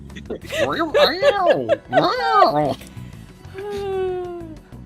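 In the video game Persona 5 Royal, people talk and chuckle, then a single drawn-out cat meow rings out on its own after the voices stop.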